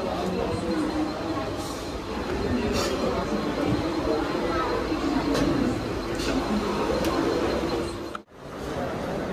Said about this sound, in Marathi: फायनली 9:28ची ट्रेन आम्हाला भेटले